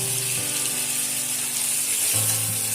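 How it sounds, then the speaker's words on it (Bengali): Chicken and spices sizzle and fry steadily in a pan while being stirred, a loud continuous hiss with occasional scraping, close up and with no voices. "সমস্ত মশলার সঙ্গে ভালো করে চিকেনটাকে মিশিয়ে নেব"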